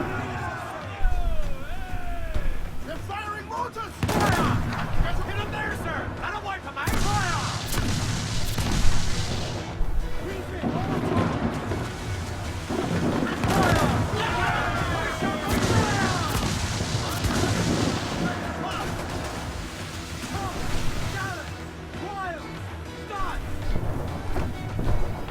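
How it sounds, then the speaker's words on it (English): Mortars fire from a ship during a naval battle in Assassin's Creed IV, with repeated heavy booms and crashes over a constant rumble of cannon fire and sea, and someone talking throughout. "Could not avoid these mortars, unfortunately"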